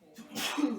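A single short sneeze, close and fairly loud, a quick burst of breathy noise.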